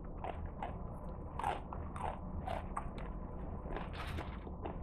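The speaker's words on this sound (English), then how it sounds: "They're crunchy like little potato chips." Close, repeated crunching and biting of a dry Mamee Monster BBQ noodle snack, broken-up ramen-style noodles with seasoning, with several sharp crisp bites over steady chewing and no talk.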